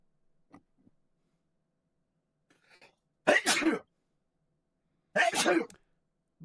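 Two sharp sneezes burst out a couple of seconds apart, loud and close, after a few faint small noises in an otherwise quiet room.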